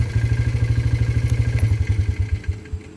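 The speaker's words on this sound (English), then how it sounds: "I keep forgetting to turn that four-wheeler off" A four-wheeler ATV engine left running near a barbed wire fence setting, idling with a steady, close, loud throb of rapid low pulses for the whole stretch, tapering slightly toward the end, with no one talking.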